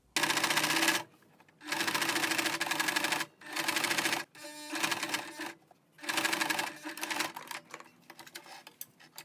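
A sewing machine stitches a dress shirt sleeve seam in several loud bursts of rapid, even rattling, separated by short pauses, with a few shorter, slower runs near the end, heard close and without talk.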